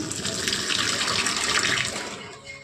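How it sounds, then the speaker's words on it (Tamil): Water running from a kitchen tap in a home, a steady close gushing splash filling the sink for a couple of seconds before easing slightly. "ஃபுல்லாக தண்ணி வரும்."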